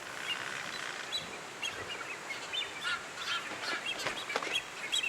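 Red-footed boobies on the oceanic archipelago of Fernando de Noronha, Brazil, give faint, scattered honking and squawking calls, several birds overlapping irregularly over soft outdoor background noise, with no voices.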